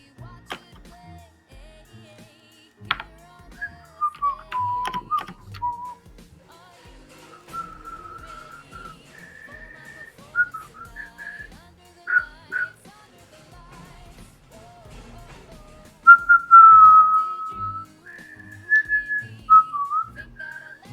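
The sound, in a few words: person whistling a tune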